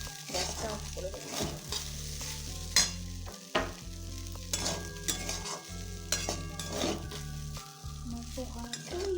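Poha with fresh coriander leaves stirred in a pan, a soft sizzle under repeated scraping and tapping of a spoon against the pan, with irregular pauses between strokes.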